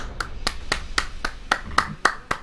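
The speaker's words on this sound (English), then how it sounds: "I think we could all clap it out for that one." Several people clap hands in a steady rhythm, nine or so sharp claps over a couple of seconds, close and fairly loud with no voices.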